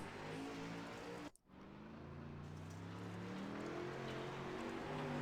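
Dylan Wilson's race car, number 80, on a speedway circuit: a steady droning engine whose pitch shifts as it moves, cut by a brief dropout, then rising again as it accelerates along the track.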